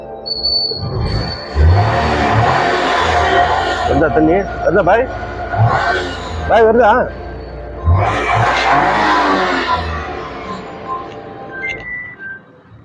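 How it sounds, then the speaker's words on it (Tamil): A 2017 Maruti Wagon R petrol engine revs hard several times in close surges, with people talking over and between the revs. "நம்ம என்ஜினை கண்டுபிடிக்கணும்னா நல்லா ரேஸ் பண்ணணும்."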